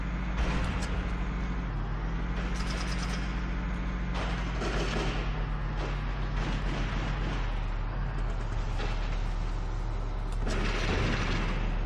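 A tank cannon fires in the video game Valkyria Chronicles, heavy booming blasts over a constant loud engine rumble and battlefield noise, with no voices.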